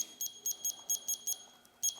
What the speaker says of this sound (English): Okay, we're putting 15 minutes on the egg timer.